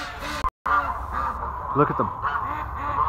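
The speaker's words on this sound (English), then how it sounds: "It's a duck train into the barn." Ducks quack and honk in short, close calls as they file into a barn in winter, with someone talking over them and a brief dropout early on.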